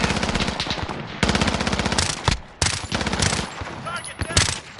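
An automated sentry gun in Call of Duty Modern Warfare fires long rapid bursts, loud and close, with brief pauses between strings of shots and a few sharper single cracks near the end.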